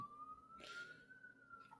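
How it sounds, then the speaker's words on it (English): Police sirens wailing outside in a game setting, a steady high wail held for nearly two seconds, faint and distant under a brief burst of noise. "we can hear the same sirens"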